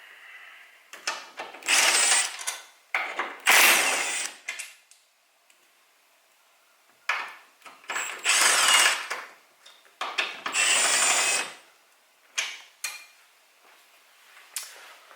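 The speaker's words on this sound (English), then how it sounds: "It's always nice to have one of these grabber tools on hand." Grabber tool fishing a dropped bolt out from under a 2008 Nissan 350Z HR during a spark plug replacement, close rattling, scraping and clicking bursts separated by short pauses.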